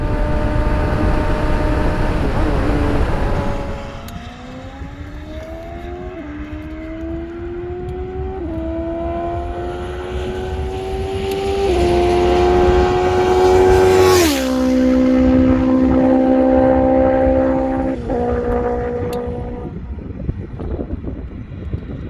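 Suzuki B-King motorcycle engine revving hard close by, its pitch climbing in repeated stepped pulls with a sharp burst near the middle. A brief pop may be in there, and no one speaks.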